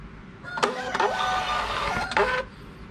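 A Bluetooth thermal printer prints a shipping label, giving a whirring, buzzing feed of about two seconds between clicks at start and finish, close and clear with no talk.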